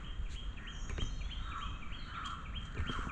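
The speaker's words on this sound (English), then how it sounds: "birds chirping at this point of time" Small birds chirp around a homestay in Kandy, Sri Lanka, trading faint, repeated high tweets at a distance over a quiet outdoor hush.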